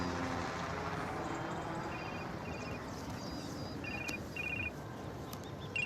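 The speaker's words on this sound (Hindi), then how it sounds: "पलक का फोन उठाऊं?" A phone rings with short, repeated electronic tone bursts in pairs, fairly faint against steady background noise, with no one speaking.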